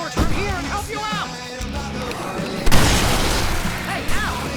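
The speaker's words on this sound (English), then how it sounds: "I can set off more of the fireworks from here and help you out!" Fireworks pop and boom in the video game Alan Wake Remastered, a few loud bursts among music and voices, with one sharp blast partway through followed by a lingering crackle.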